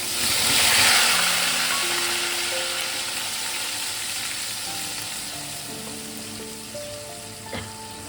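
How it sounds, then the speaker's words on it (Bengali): A paste of onion, tomato, green chilli, garlic and ginger sizzles loudly in hot oil for chana masala, a dense steady fry that swells at first and then settles, with occasional stirring scrapes and no talking. "এবার মশলাটাকে আমি ভালো করে একটু কষিয়ে নেবো।"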